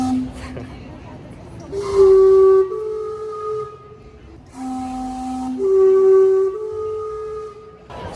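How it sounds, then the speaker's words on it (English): The Gastown steam clock in Vancouver sounds its steam whistles outdoors, two loud sustained chord-like blasts a few seconds apart over steady hiss and street ambience, with people talking nearby. "It is just a steam clock"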